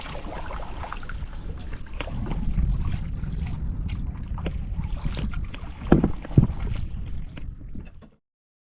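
A kayak moving through calm water in a Konkan mangrove setting, with soft steady paddle and water noise, light wind and a couple of sharper knocks near the end.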